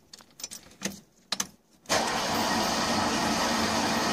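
A Citroën Dyane with a newly fitted engine cranks in a few uneven bursts, then catches and runs on at a steady, loud, close idle.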